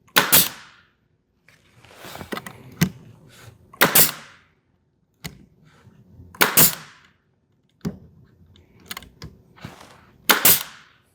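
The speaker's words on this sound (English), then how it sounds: "Then you can shoot your nail." A pneumatic nail gun drives nails into wood while building a Kubb game caddy, firing six sharp, loud cracks at irregular intervals with quieter handling and clatter between shots.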